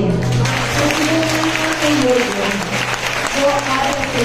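A congregation at a Christian worship gathering claps with hands raised, a loud, steady patter of applause mixed with voices and a sustained low hum from the sound system.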